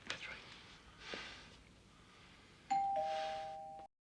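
A doorbell rings in a scene from The Sopranos, a two-tone chime that rings out clearly and steadily near the end, after quieter background voices and room sound.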